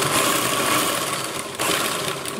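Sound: sewing machine stitching a chudithar top

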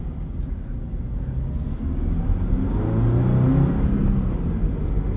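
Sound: Subaru BRZ/Toyota GR86 accelerating on stock throttle

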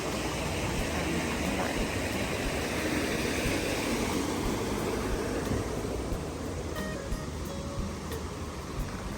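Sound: flowing stream water

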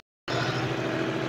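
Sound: John Deere 5305 tractor engine starting at 1600 rpm

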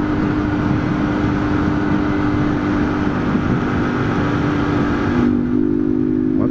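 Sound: Honda Titan motorcycle engine revving

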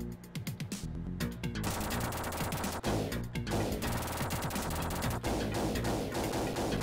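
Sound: shotgun gunfire in Terminator 2 arcade video game

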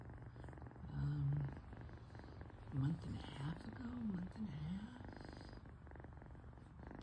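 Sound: kitten purring

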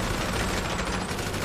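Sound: gunfire at bunker shooting range in video game GTA Online

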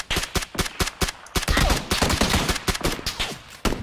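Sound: gunfire from enemies in the video game PUBG

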